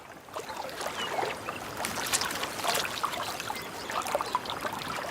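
Water running and trickling over a beaver dam of timber and mud, a steady close splashing gurgle with brief brighter spatters throughout.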